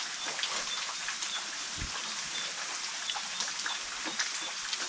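Light rain falling outdoors, a soft continuous patter and hiss of drops, faint and steady with a brief low thump partway through.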